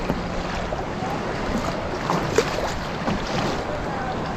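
A small boat is rowed on choppy water at Pictured Rocks National Lakeshore on Lake Superior, with constant wind buffeting the microphone over lapping, splashing water and a few faint paddle strokes.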